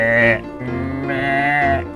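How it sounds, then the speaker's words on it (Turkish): A goat in the Ranch Simulator farming game gives two drawn-out, wavering bleats, close and loud, with a brief pause between them. "Keçi, keçi, keçi. Keçi yeni aldım seni. Mee."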